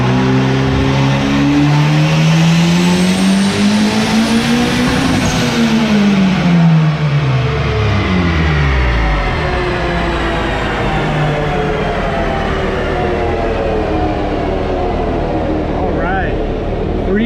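Turbocharged Honda K20-swapped Mazda truck with a stock-internal engine, run on a dyno: a loud, sustained engine note that climbs steeply in pitch through a hard pull, then drops and settles, with a voice talking over it.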